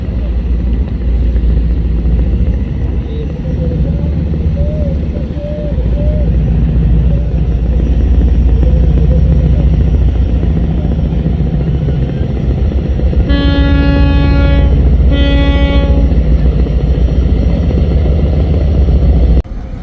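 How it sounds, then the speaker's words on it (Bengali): Passenger river launch Tipu-14 in Bangladesh gives a steady, loud, low engine drone throughout, with a short blast of a tonal horn near the end. "আমার সামনে হচ্ছে এই মুহূর্তে যে লঞ্চটি আপনারা দেখতে পাচ্ছেন"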